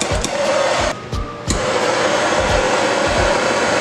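A homemade propane flamethrower roars with a steady, loud hiss of released and burning gas, briefly dipping and sputtering before surging back to a constant blast.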